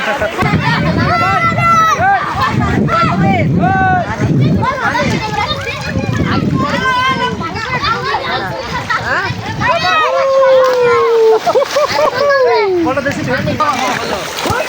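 Water splashes in a river where a boy is learning to swim, surrounded by loud, constant children's voices and crowd chatter, with splashing mixed throughout.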